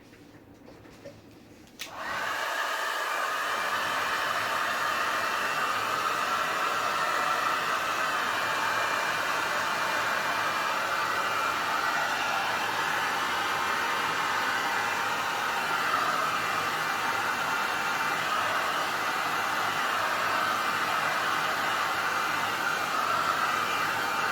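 A hair dryer blasts to dry paint on a craft project, switching on after a short quiet moment and then running loud and steady with a constant airy roar until the end.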